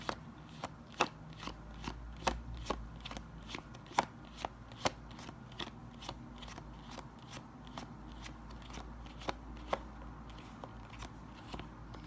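Cards being dealt or flicked repeatedly, a long run of sharp papery snaps at an uneven quick pace, close and quiet over a faint low hum.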